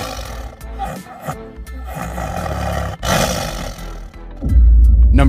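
A hungry tiger lets out deep, rumbling roars and snarls, close and powerful, in several heavy bursts that end in a low, booming growl.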